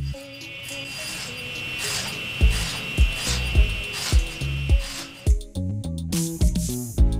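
Hand saw cutting grooves for dado and rabbet joints in wood for a motherboard tray, giving close, rhythmic rasping strokes that repeat about twice a second and get sharper toward the end.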